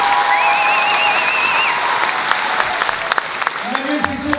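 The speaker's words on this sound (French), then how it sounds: "Je vous demande encore des applaudissements pour le réalisateur et producteur de La Curée." A theatre audience at a film premiere applauds the director and producer of La Curée, a thick burst of clapping that thins into scattered claps, with a voice speaking over it at the start.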